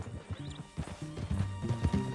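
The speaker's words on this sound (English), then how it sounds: "Get your horse and let's go." Horse hooves clip-clopping in the Western video game Red Dead Redemption 2, an irregular run of close, fairly loud hoof hits on the ground.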